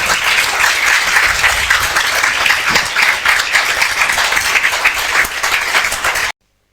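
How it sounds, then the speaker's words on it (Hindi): An audience gives loud, steady applause to welcome a speaker to the stage, a dense wash of clapping throughout before it cuts off abruptly. "तो मैं चाहूँगा कि हम जोरदार तालियों से स्वागत करें"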